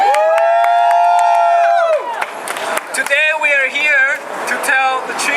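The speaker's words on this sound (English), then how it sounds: "Can we get a big clap?" A protest crowd against a possible sale of the Chicago Tribune cheers and whoops after a sustained tonal opening, with loud overlapping voices rising and falling nearby.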